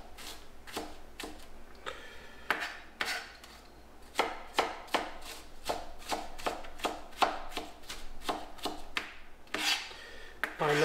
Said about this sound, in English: And I'm just going to chop this stuff up pretty fine.